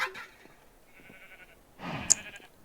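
A blocky Minecraft sheep gives a short bleat near the end, clear but fairly quiet against a near-silent game background.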